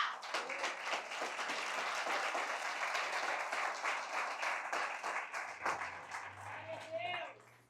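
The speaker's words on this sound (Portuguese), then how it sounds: "Você pode aplaudir o Senhor por isso?" A church congregation at a Sunday service applauds with dense, sustained clapping throughout, joined by voices, and the applause fades slightly near the end.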